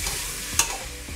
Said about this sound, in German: Deswegen ruhig ich etwas Zeit geben, dass das Fleisch anbraten kann.